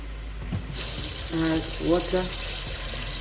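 Water poured into a pot of Nigerian vegetable soup made with ugu and water leaves, a brief splashing pour that runs for a couple of seconds under background room noise and some kitchen sounds.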